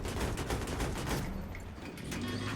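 Rapid bursts of gunfire in Battlefield 2 on the Strike at Karkand map, dense and continuous for the first half, then thinning into scattered shots over a low rumble.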